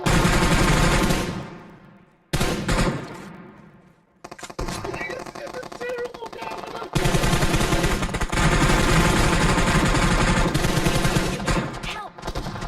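An M249 machine gun fires in PUBG Mobile in loud sustained bursts. The bursts break off twice into short fading gaps before a long, steady stream of rapid shots closes the stretch.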